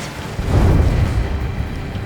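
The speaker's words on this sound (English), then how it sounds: "A huge explosion just went off underwater." A huge underwater explosion in the Ace Combat 7 combat flight game swells into a deep, rumbling low boom that peaks within the first second and rolls on as a heavy, muffled roar, with no talking over it.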